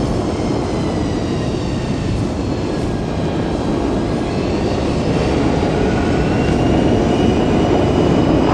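A loud airplane roars steadily overhead in a dense, continuous broadband rush that builds slightly toward the end, with no voices.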